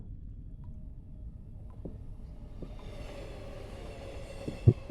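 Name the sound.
train sound in horror video game Only You Are Here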